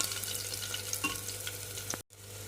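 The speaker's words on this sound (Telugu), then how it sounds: "ఇప్పుడు ఈ పోపు చక్కగా వేగాలండి." Garlic tempering sizzling steadily in hot oil in a pan, a continuous close crackle and hiss that cuts off abruptly near the end.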